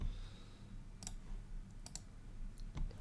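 Several sharp computer mouse clicks, in a single click near one second, a double click just before two seconds and more near the end, over a low steady room hum with no talking.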